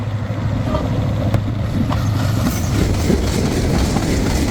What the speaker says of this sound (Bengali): এখানে দেখতে দেখতে ট্রেনের সাথে দেখা হয়ে গেল, দাঁড়িয়ে গেলাম। এটা সম্ভবত ধূমকেতু এক্সপ্রেস আসছে।